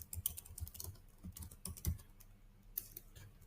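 Quiet, close typing on a computer keyboard: a steady patter of soft key clicks with brief pauses, alone without speech.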